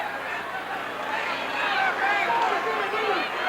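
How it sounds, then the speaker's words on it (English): Wrestling arena crowd at a Ric Flair versus Butch Reed world title match, a steady dense roar of voices and jeers with some rising shouts, loud throughout. "And listen to the crowd."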